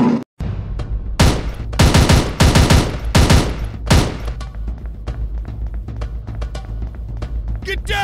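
Rapid bursts of enemy gunfire and heavy thuds fill a mobile shooting game battle, with loud volleys clustered early and lighter shots continuing, while a voice calls out over the shooting.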